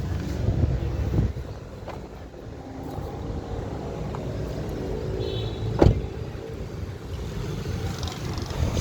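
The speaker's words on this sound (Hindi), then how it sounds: "ठीक है, गाड़ी स्टार्ट हो गई।" A 2023 Toyota Prius idles quietly after starting, a low steady hum with faint mechanical clicks and a brief thump partway through, no talking.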